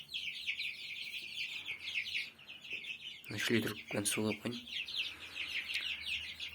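A flock of over sixty chicks, about a month old, keeps up a steady shrill peeping in a farm coop while someone speaks briefly partway through.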